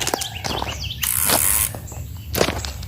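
Birds chirp and call outdoors near a fishing spot on a sunny day, with short tweets and a sustained high whistling note scattered over soft background noise.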